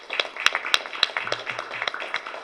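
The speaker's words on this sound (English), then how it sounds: "could I have a round of applause for them?" A small audience gives a short round of scattered applause at a school event, with a few louder individual claps standing out from the steady patter.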